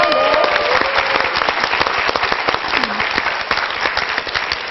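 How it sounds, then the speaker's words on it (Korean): A studio audience on a Korean art TV show bursts into loud, dense applause that carries steadily throughout. A voice rises briefly over the clapping. "여러분 시청에서 박수 한번"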